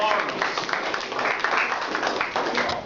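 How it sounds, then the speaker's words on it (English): Members at a Toastmasters club meeting applaud a speaker: a steady wash of many hands clapping in a room, close and continuous, with some voices mixed in. "Let's give Mark a round of applause"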